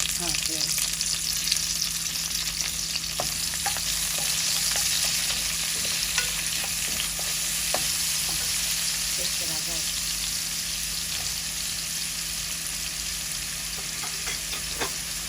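Onions fry in hot oil in a pan for a Bengali chicken and potato curry, giving a steady, fairly loud sizzle with occasional light clinks throughout.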